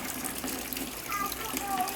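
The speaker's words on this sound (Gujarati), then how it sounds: "વરસાદ તો ફૂલ ચાલુ" Heavy monsoon rain pours down outside a home in a dense, steady wash of splashing water, close and continuous for the whole stretch, with a voice talking faintly underneath.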